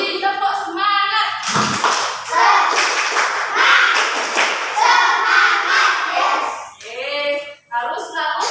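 A classroom of children claps the rhythmic 'tepuk semangat' spirit clap, quick bursts of hand claps and thumps close by, mixed with the teacher's and kids' voices chanting along.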